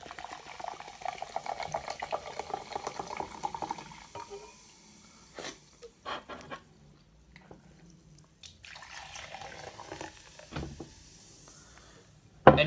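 Code Red soda pours from a bottle into a measuring cup, a fizzy gurgling stream for a few seconds, then softer fizzing, scattered drips and clinks before a final louder splash and knock.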